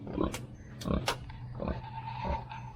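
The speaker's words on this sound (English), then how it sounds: "And the other two pigs, let's see if we can find them this morning." Pigs grunt on a farm on a quiet morning, several short, close grunts and oinks scattered over a low steady background hum.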